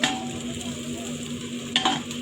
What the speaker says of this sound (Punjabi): ਇਧਰ ਮੈਂ ਤੜਕਾ ਲਾਉਣ ਲੱਗੀ ਸੀ